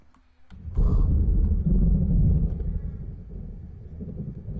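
Thunder from a tornado storm cell in a Minecraft sound pack: a sudden heavy, deep rumbling crash that swells loudly, then slowly rolls away over several seconds.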